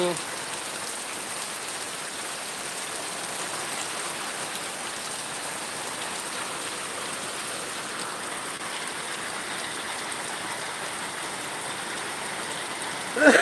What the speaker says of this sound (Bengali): বৃষ্টি হচ্ছে আজকে